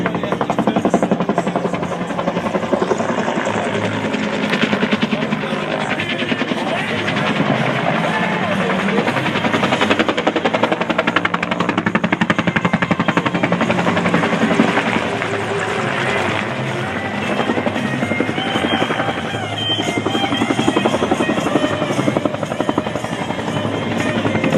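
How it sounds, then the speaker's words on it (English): A Bell UH-1H helicopter's rotor thumps and drones steadily for a long stretch at an air display, loud and sustained, with engine whine layered over the rhythmic chop. "they're going to show you what the helicopters do best"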